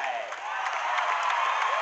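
Crowd at the KSI vs Joe Weller boxing fight applauding and cheering the boxers, a dense, continuous roar of clapping and whoops from a large arena audience.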